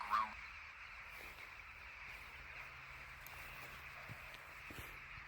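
A large flock of birds honks continuously at a distance, forming a steady, fairly faint wash of calls with no talking over it.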